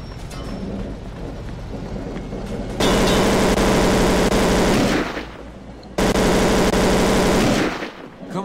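Automatic weapon fire in the gangster game Mafia 2: two long, loud, sustained bursts of rapid gunfire, each lasting a couple of seconds, after a quieter stretch of background game noise.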